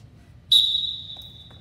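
A single sharp whistle blast starts a 40-yard dash at a school field day, sounding loud and sustained for about a second before trailing off, with faint background noise.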